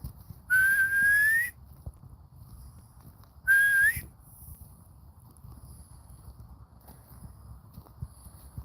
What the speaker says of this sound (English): I'll whistle to catch his attention.